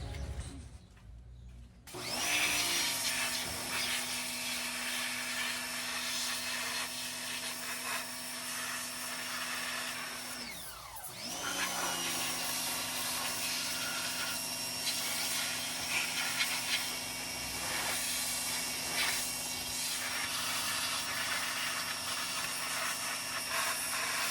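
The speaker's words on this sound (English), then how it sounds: "we're gonna pressure wash it for the last time." A pressure washer sprays down engine clutch parts, flywheel and pressure plate, with a loud, steady broadband hiss that runs almost continuously, pausing briefly once before resuming at full force.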